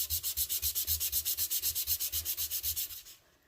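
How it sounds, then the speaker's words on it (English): Quick rhythmic rasping strokes of sanding the edges of white-core cardstock, about six per second, close and even, stopping just before the end. "but I love to sand cardstock"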